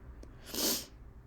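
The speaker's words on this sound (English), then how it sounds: "I keep sniffling." A single short, breathy sniffle from someone with a cold, close and fairly soft, lasting under half a second in an otherwise quiet room.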